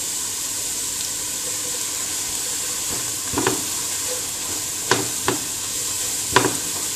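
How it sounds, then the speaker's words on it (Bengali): Onions fry with turmeric in a pan, a steady, even sizzle with a few scattered sharp clicks of a spoon against the pan, close by and with no talking. "ভাজা হয়ে গিয়েছে, অর্ধেকটা ভাজা পেঁয়াজ নামিয়ে নেব।"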